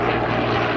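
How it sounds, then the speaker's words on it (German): A Morane-Saulnier D-3801 propeller warplane, the last one still flying, drones past at the 2018 Fricktal-Schupfart air show. Its engine makes a steady, loud, even roar that runs through the whole moment with no talk. "Die Moran, die wir hier sehen, die sind die einzige noch fliegende Moran."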